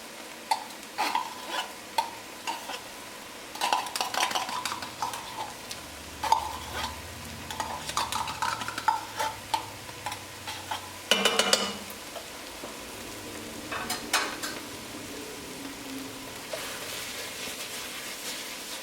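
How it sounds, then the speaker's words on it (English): Tomato paste for Hawaiian chili cooking down in a pot, a soft low sizzle broken by frequent scraping stirs and clinks of a spoon, with a sharper burst of scraping midway. "Now we cook this tomato paste down because it's raw, has a raw flavor."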